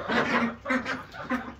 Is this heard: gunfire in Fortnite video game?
no